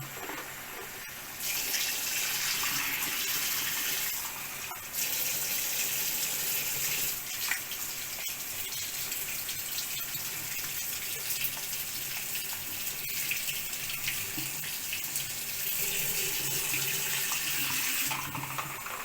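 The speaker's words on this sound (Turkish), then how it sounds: "Bunu çok güzel yıkamanız gerekiyor ilk başta." Tap water runs steadily and loudly over a clogged aquarium CO2 diffuser being rinsed in a sink, a continuous hissing splash with no speech.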